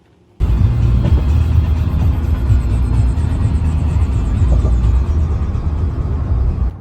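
Steady car road noise while cruising on Highway 287 after leaving Dallas–Fort Worth traffic, a continuous loud rumble that begins abruptly and holds even, with no talking.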